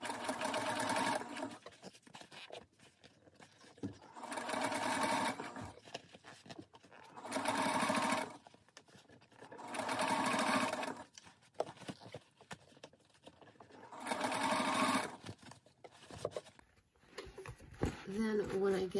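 Sewing machine top stitching a lined zippered pouch with an eighth-inch narrow foot, running in five steady bursts of a few seconds each, separated by short pauses, close and clear, with a brief rustle of handling at the end.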